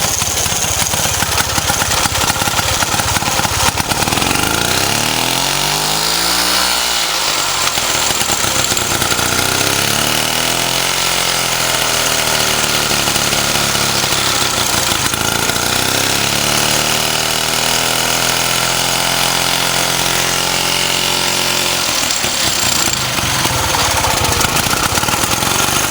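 A 1926 Jawa motorcycle engine runs steadily and loudly in a workshop shed, its revs rising and falling in several slow swells over a continuous idling chug, with no talk.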